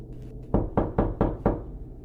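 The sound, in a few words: knocking on a door, sound effect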